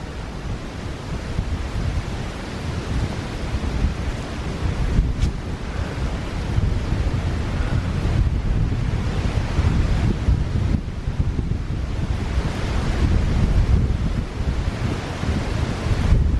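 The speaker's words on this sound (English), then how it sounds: "when I went to visit my aunt, and it was really blustery" Strong blustery wind on an outdoor walk, a steady loud roar buffeting the microphone throughout with no break, a low rumble close to the ear and no voices.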